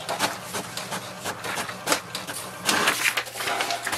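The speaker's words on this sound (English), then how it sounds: "the printer will print a page and it will display HP network configuration page" An HP DeskJet 2655 inkjet printer runs off a network configuration page, giving a close, busy stream of whirring feed motor and clicking, shuttling print-head passes that swell louder toward the end.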